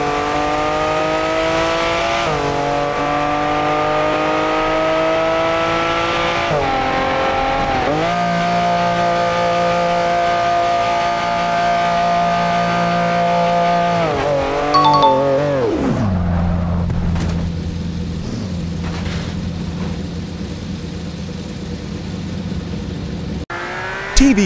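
Lamborghini Aventador in BeamNG Drive, its engine revving loud and steady through climbing gear shifts, then a sudden drop in pitch and a rougher, harsher engine tone after a crash, with a sharp hit near the end.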